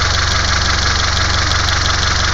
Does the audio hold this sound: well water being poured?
no